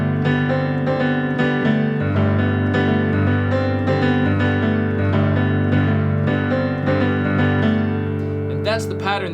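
A piano plays a sustained, repeating G-chord pattern, loud and close, with dense held harmonics. It runs steadily for about nine seconds, with no one talking over it.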